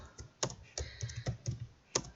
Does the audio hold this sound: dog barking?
no